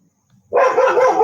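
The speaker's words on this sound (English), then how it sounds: "There goes the dog." A dog lets out a single loud, sustained bark or howl that starts abruptly after near silence and carries on at full volume, close by.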